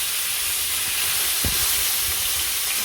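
Fish fry in a hot wok with a steady, bright sizzle and hiss, interrupted by a brief low thump or stir in the middle.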